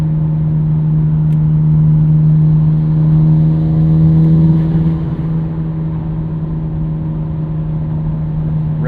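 A 1999 Nissan Skyline R34 GT-R twin-turbo engine cruises steadily in sixth gear at just over 3,000 RPM at highway speed, a constant loud drone with road and wind rumble and no talking.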